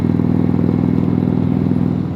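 An Indian Roadmaster motorcycle is ridden on the road, its engine giving a loud, continuous low throb with a steady pulsing rhythm and some rushing noise, with no talking.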